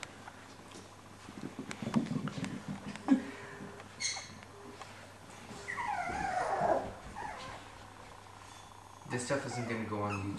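A puppy whimpers in thin, high-pitched whines that rise and fall. The cries come in a few short bursts, with people talking and household noises around them.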